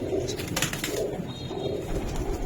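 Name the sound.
Pakistani highflyer pigeons cooing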